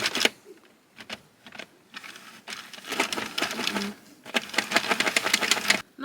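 A home knitting machine runs with a rapid mechanical clatter, bursts of fast ticking and carriage rattle that swell and pause unevenly, fairly close with no voices.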